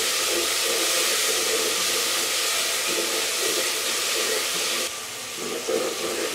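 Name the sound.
tomatoes being sautéed in a pan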